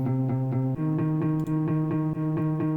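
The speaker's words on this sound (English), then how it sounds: "And then lastly, we have a guitar." A heavily processed guitar track from a mix plays alone, a steady pulsing tone with rhythmic repeating notes and effects.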